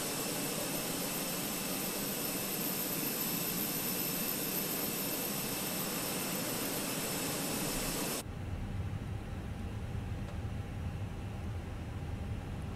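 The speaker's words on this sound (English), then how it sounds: "Starting engine 2." An Airbus A320 jet engine spooling up in Microsoft Flight Simulator, a loud steady turbine whine and rushing roar that cuts off abruptly partway, leaving a quieter hum, with no talking.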